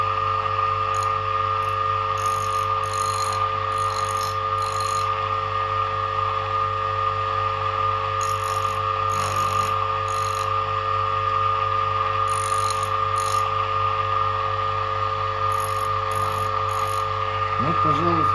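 A bench grinder hums with a steady, even whine while a carbide-tipped drill bit is lightly sharpened against its stone, with short bursts of grinding contact repeating at intervals over the constant motor tone.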